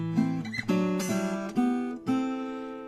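A few plucked chords on a 1965 Guild M-20 acoustic guitar, dry and fairly slender in tone, with each attack fading quickly before the next.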